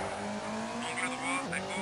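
A rally car in the Colin McRae Rally PC game slides with tire scrub over a steady droning engine note that dips briefly near the end, while someone talks over it.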